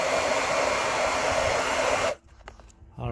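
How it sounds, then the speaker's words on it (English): A hair dryer blows steadily and loudly up close on a Ducati Streetfighter motorcycle logo for about two seconds, then switches off, leaving faint handling noises. "Let's hair dry it a little bit."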